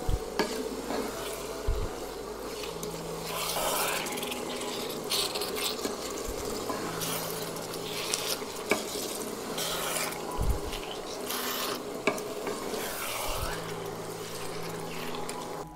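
A spoon scrapes and stirs through parsley and peppers in a pot amid a steady low sizzle and bubbling, with occasional knocks against the pot.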